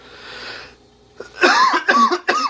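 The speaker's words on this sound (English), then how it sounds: "Don't know where this cough randomly came from, but it's here." A person coughs a few times in a quick harsh burst, close and loud, after a quieter stretch of background noise.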